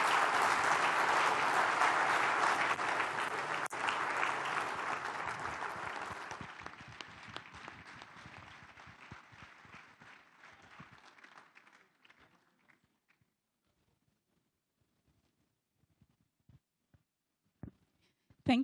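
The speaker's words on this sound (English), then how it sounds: "Another round of applause, please" Sustained audience applause at a Nigerian democracy and free-market economy forum, loud and dense at first, then thinning into scattered claps that fade toward near silence, with a few isolated claps at the very end.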